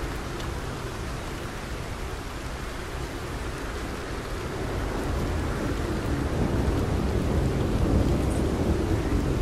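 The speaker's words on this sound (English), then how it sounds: "It's raining so hard." Heavy rain in the video game Red Dead Redemption 2 pours in a dense, steady roar that swells slightly louder, with a low rumbling undertone of thunder, and no one speaks.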